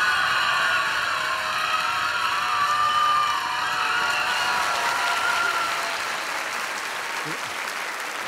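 A studio audience at a French television variety show applauds steadily and loudly, a dense continuous wash of clapping that holds for several seconds and eases slightly toward the end.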